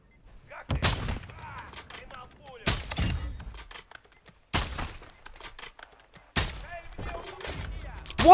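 A stun grenade going off during a firefight in the video game DMZ, with several loud, sharp blasts spaced a couple of seconds apart, each followed by crackling decay and a scattered background clatter.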